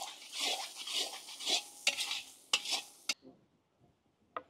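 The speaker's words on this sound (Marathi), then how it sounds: "चवीनुसार मीठ, व्यवस्थित परतून घेऊ।" Egg thecha bhurji sautéing in a pan with turmeric and salt, a close scraping stir with soft frying hiss, several sharp utensil clacks against the pan, then a near-quiet pause and one last tap.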